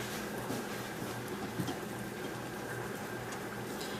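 Eel pieces fry in a hot pan for an Indian-style eel fry, giving a faint, steady sizzle and bubbling hiss with no talking.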